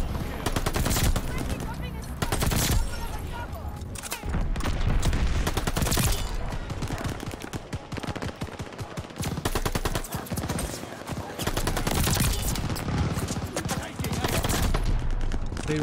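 Shotgun blasts in a multiplayer shooter, repeated loud booming shots and gunfire bursts in irregular clusters across the whole stretch, with game noise and occasional voices mixed in.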